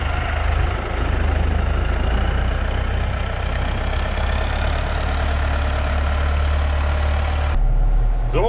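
A four-wheel-drive farm vehicle's engine runs steadily at a loud, low, droning idle for several seconds, close by, with a sudden shift in tone near the end.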